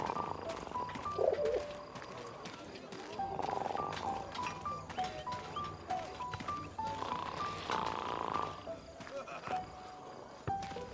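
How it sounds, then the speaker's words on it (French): A pigeon coos in the World War I era video game Memories Retold, its soft calls set among music-like tones and game ambience, with voices talking over parts of it. "Send the pigeon to Raphael's face."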